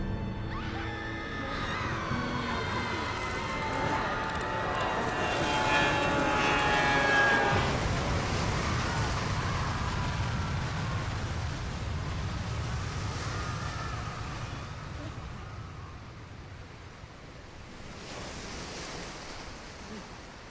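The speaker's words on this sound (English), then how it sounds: "the plane has crashed" Ocean waves wash and rumble steadily in BioShock after a plane crash, a broad roar with wind-like noise that swells around the middle and slowly eases toward the end, with a faint voice in the opening seconds.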